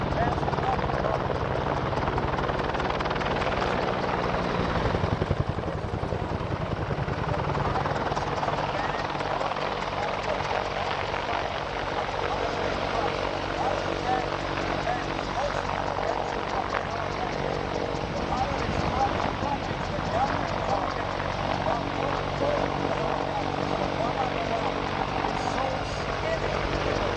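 AH-1 Cobra and AH-64 Apache attack helicopters at a demonstration produce a steady, loud rotor and engine roar that continues throughout, with a person talking over it.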